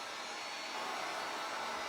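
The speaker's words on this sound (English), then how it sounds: "Take our dryer again. Just do a little bit of speed dry." A hair dryer blows steadily on a paper craft project, a constant broadband whoosh of moderate loudness with no talk over it.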